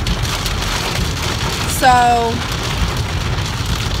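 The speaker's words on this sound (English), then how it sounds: "Pouring rain outside right now." Steady pouring rain outdoors forms a dense, constant hiss under the whole stretch, with a brief louder tonal passing sound midway and a little speech.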